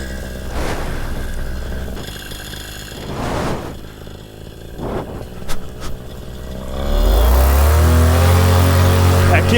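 A car passes along a road on a Korean island, its engine rising as it approaches and dominating the end, while louder broadband rushes of wind and motor noise from a paramotor setup come and go around it.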